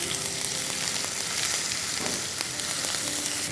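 Parboiled carrots fry in a pan with ginger and garlic paste, giving a steady close sizzle with faint stirring throughout.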